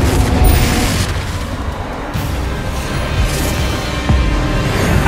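Fiery Confringo spell blasts in Hogwarts Legacy, a dense run of booming, crashing explosions filling the whole stretch with continuous loud rumble and a fresh heavy hit near the end.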